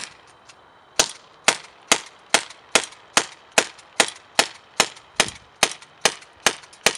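An HFC Mauser C1896 airsoft pistol fires about fifteen sharp, evenly spaced snapping shots, close and crisp, following a couple of faint clicks.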